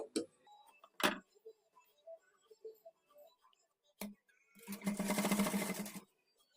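Quiet handling and a few sharp clicks lead into one short burst of a sewing machine hemming the bottom of a kurti. The stitching is close and steady for about a second and a half, then stops.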